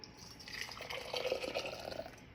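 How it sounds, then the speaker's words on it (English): Hot cooked beans and liquid poured from a cup into a bottle, a soft gurgling, dripping pour that swells in the middle and tapers off, close and fairly quiet, with no voices. "I will pour that into another bottle"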